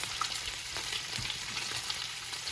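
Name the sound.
turkey bacon frying in a pan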